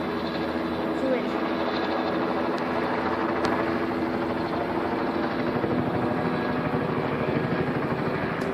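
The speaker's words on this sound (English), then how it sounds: "I'll wait till the choppers goes by." A helicopter drones overhead in a continuous loud, steady rotor chop that fills the whole stretch without fading.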